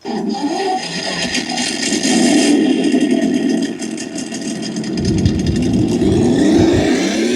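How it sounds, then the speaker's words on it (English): An Axial SCX6 RC truck's ESS dual sound module plays a simulated engine: a steady, fairly loud drone that swells into revs, with no voices. "I'll have to start the motor, the sound module, I guess."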